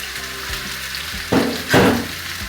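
Over a kilo of shrimp sautéing with ketchup in a pan gives a steady sizzle, with two louder bursts of frying and scraping as the shrimp is stirred.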